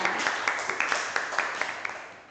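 A classroom of students gives a brief round of applause, with dense clapping and a few sharper individual claps standing out, fading slightly toward the end.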